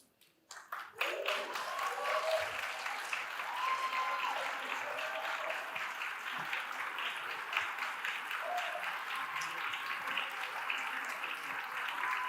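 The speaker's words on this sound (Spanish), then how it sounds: "Un aplauso para ellas" Sustained applause from a large crowd starts abruptly and keeps going evenly, a dense wash of clapping at moderate distance.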